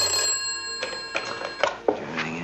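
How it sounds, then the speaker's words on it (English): A telephone bell rings with a bright metallic tone, heard over a steady background hum and a few soft knocks. "Answer the phone, somebody. Answer the phone."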